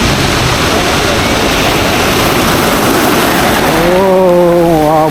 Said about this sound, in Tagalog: Umaabot ho dito yung hampas ng tubig dito